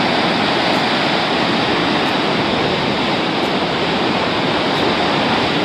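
Water rushes loudly and steadily through the large Indira Gandhi canal in Rajasthan, a dense, unbroken roar with no voices over it.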